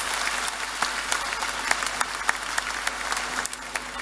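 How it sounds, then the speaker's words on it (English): A youth empowerment summit audience claps in sustained, moderately loud applause lasting several seconds, with individual claps standing out sharply against the steady patter of the crowd. "Give a round of applause to yourself."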